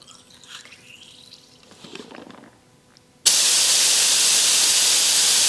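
A Harbor Freight FLG 4 paint spray gun at 30 PSI starts with a sudden loud, steady hiss that continues unbroken, following a few seconds of quiet faint handling noises.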